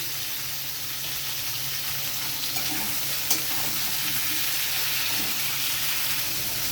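Ridge gourd and potato pieces fried with salt in a pan, stirred with a metal spatula: a continuous loud sizzle with occasional scrapes and one sharp clink of the utensil.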